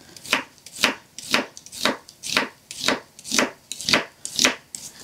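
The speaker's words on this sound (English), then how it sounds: "we're just going to give that a nice slice" A knife slices through half a red onion on a cutting board, about ten crisp, evenly spaced strokes in a steady rhythm, close and clear with no voices.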